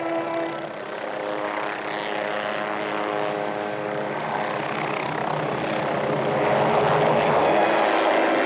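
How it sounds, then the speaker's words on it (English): A helicopter drones steadily overhead, its rotor throbbing in a continuous hum that grows slightly louder toward the end, with no voices. "It's a helicopter!"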